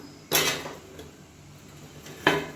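A lid is set down over an idiyappam steamer stand as black kavuni rice puttu cooks, giving two distinct metallic clanks about two seconds apart, close and fairly loud, with a quiet faint tap between them and no talk.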